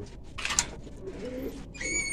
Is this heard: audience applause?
no